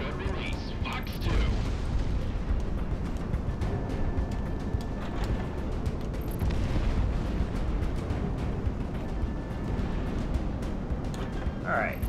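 Missile launches and explosions from the Project Wingman flight game, heard as continuous roaring rumble and booms with a pilot voice talking over it.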